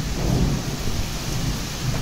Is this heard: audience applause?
no